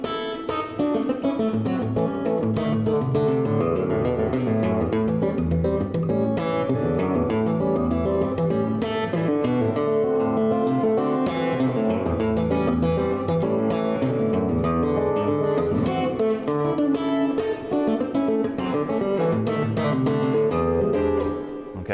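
Fingerstyle acoustic guitar plays a tune with sharp, snappy plucked attacks. A busy, bright picking pattern runs continuously over a bass line, close and steady, with no talking.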